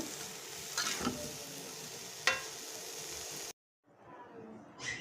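Taro curry fries in a pan while being stirred, a soft steady sizzle broken by a couple of sharp utensil scrapes, then a short silence and a quieter return.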